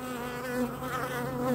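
Honeybees at an opened hive during a varroa inspection, a dense close steady buzz with wavering pitch throughout, no talk.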